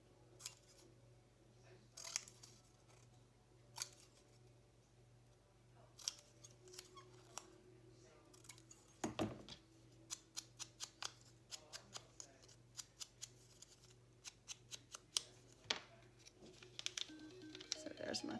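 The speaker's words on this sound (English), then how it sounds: "Here's my big scissors. I can cut this." Large scissors snip through paper to cut out a butterfly label, a series of short crisp cuts with paper rustling, close and fairly quiet over a steady low hum.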